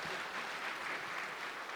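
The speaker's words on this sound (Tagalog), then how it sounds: "At isa pang malakas na palakpak para sa Kanya." Congregation applause at a Christian worship celebration in the PICC hall, a dense, steady wash of clapping from a large crowd sustained throughout without pause.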